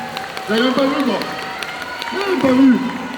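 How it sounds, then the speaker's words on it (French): An audience applauds cosplay props at a cosplay contest at Bordeaux Geekfest 2022, a steady wash of clapping under a couple of rising voices or cheers. "les accessoires, on les applaudit s'il vous plaît"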